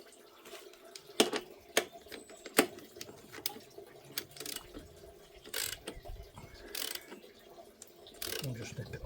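A new spark plug is tightened into a Briggs & Stratton 500e engine, with close, irregular metallic ratchet clicks and small taps spread across the clip over faint background noise.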